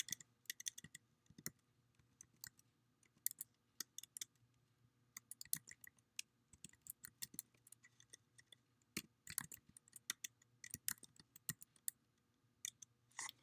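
Keys tapped on a computer keyboard in quick, uneven bursts of sharp clicks, close and fairly quiet, with short pauses between runs and no talking.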